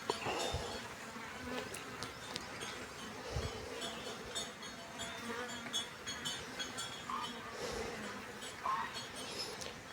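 Wild honey bees buzz and circle around a hive box as they move in, a steady close insect hum with scattered rises and passes of louder buzzing throughout.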